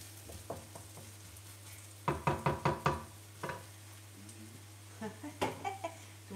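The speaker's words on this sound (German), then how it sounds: "Zwiebeln in die Pfanne, leicht andünsten bitte." Onions sauté in a hot oiled pan with a quiet sizzle, broken by bursts of quick knocking as a utensil stirs against the pan, with a steady low hum underneath.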